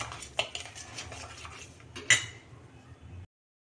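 A spoon clinks and scrapes inside a small bowl or pot while flour paste is stirred smooth for horse gram shengole, with a low rustling churn and two sharper metallic knocks, close up, cutting off abruptly.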